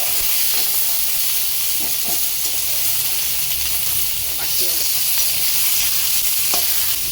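Small onions, ginger and garlic frying in a pan, a constant loud hissing sizzle with occasional faint scrapes of stirring, close up.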